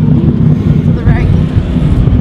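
BMW E46 M3 fitted with a 2JZ engine drifting, a loud, continuous engine drone with a brief rising whine partway through, while people talk over it.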